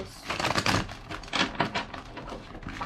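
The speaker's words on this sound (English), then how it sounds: "Two more shuffles." Quick bursts of crisp papery riffling with short pauses between them, close by and fairly soft, like cards being shuffled by hand.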